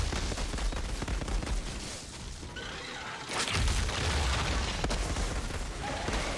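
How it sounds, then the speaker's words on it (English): Shotgun fire and explosive reload blasts in the video game Outriders, a dense barrage of booming shots and bursts with a brief lull before the heavy, close combat noise resumes. "It does like an explosion when I reload."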